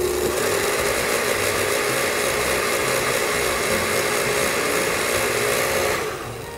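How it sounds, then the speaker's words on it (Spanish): A kitchen blender runs steadily at high speed, whirring loudly and continuously as it purees ingredients for a Peruvian causa limeña sauce, then the motor begins to wind down at the very end. "dejamos que se asiente la mezcla en la licuadora y comenzamos de nuevo"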